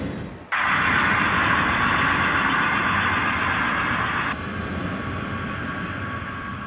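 A model railroad train rolls into the staging yard of a museum layout, a steady loud rumble and hiss starting abruptly and continuing throughout, easing slightly toward the end, with no talk.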